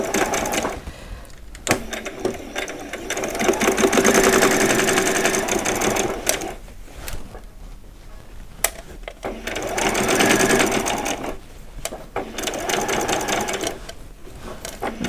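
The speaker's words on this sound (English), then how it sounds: "Drop your needle, you want to keep it on that 1/4 inch just there. And I'm just going to start and do a back stitch." A sewing machine stitching vet scrubs, starting with a back stitch, in loud close bursts of rapid mechanical whirring separated by short pauses as the fabric is guided.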